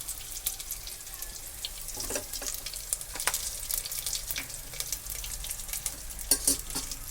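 Curry leaves and asafoetida sizzling in hot oil for a dal tempering, a quiet, steady crackle with scattered sharper pops and spits over the whole stretch.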